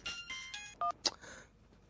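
A phone rings briefly indoors with a short electronic tone, quick and fairly faint, in a comedy household scene.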